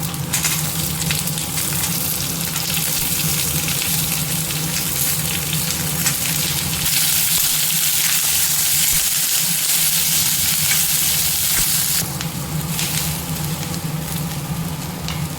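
Onions sautéing in a pan for paneer butter masala give a continuous close sizzle with light stirring scrapes, briefly shifting in intensity midway before the bright crackle returns.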